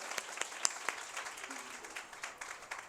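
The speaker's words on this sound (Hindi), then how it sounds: "तो हम ज़ोरदार तालियां उनके लिए भी बजाएंगे" An audience applauds the musicians at a hymn release ceremony in Rattanabad, Mirpur Khas. The clapping is steady and fairly distant, with a few sharper individual claps standing out.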